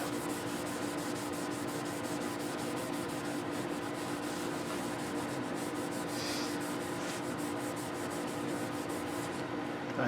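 A steady, close rubbing of oil onto the fingerboard of an Ibanez Soundgear 380 bass, a continuous soft friction with no pauses and no voices.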